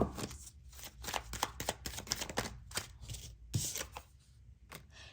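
Tarot cards shuffled in a quick, irregular run of crisp riffling bursts and soft slaps, close and fairly quiet, with no talking.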